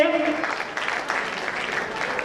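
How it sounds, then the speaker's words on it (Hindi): An audience applauds steadily at an international stage event in 2012, a dense, even wash of clapping with a voice briefly heard at the very start. "बिग हैंड्स टुगेदर, जोरदार तालियां करेंगे"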